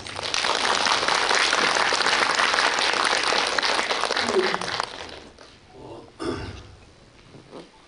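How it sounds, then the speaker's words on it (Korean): Audience applause in a cinema auditorium during a film Q&A event, loud, dense and sustained for about five seconds before fading into scattered claps and quiet room noise. "박수 쳐주세요."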